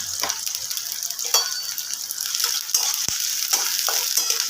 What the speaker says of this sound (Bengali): ভেজে নেব তো পেঁয়াজটা হালকা গোলাপি রং ধরে গেছে